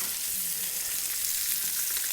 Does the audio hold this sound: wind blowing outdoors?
no